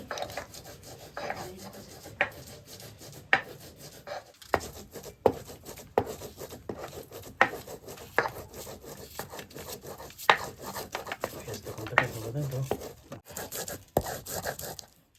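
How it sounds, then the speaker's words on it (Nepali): Garlic cloves finely chopped with a knife in a village kitchen for chicken biryani, a series of crisp, uneven knocks on a board scattered over many seconds, close and soft, with light rubbing between strokes and no talking. "लसुन लसुन लसुन काटिदिँदैछु मसिनो काट्यो भने मात्रै सजिलो हुन्छ"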